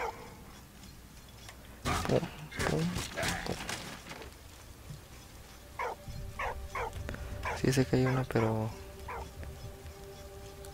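A dog in the World War I video game Valiant Hearts: The Great War whimpers and gives short barks, the whines rising near the end amid steady Spanish commentary.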